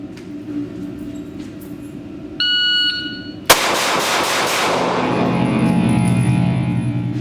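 Shot timer beeps once for about a second to start a shooting drill, a sharp steady electronic tone, followed at once by a loud close gunshot with a ringing, reverberant tail.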